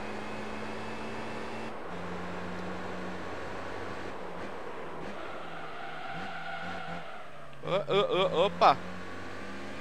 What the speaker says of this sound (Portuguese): Dá pra ouvir de fundo o pessoal cantando pneu lá atrás